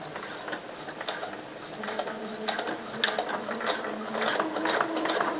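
A sewing machine stitches elastic onto doll pants at a seam, its motor whirring with rapid rhythmic clicking that speeds up and grows louder, heard close and alone.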